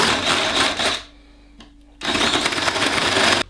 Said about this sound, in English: just taking a 3/4 inch spade bit, and I'm just gonna countersink it just a little bit